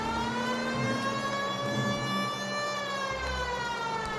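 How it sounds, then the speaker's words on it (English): A police car siren wails steadily in a video game, a loud, continuous, slowly sweeping tone over engine rumble, lasting the full four seconds. "The best way to get around town is to use the siren."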